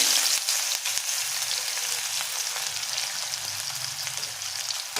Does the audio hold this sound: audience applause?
no